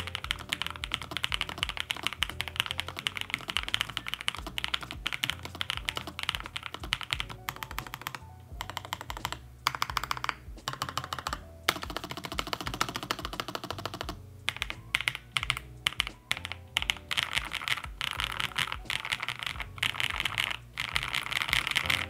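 Steady typing on a Lofree Flow Lite mechanical keyboard, a dense run of close, crisp keystrokes with short pauses between bursts and no voices.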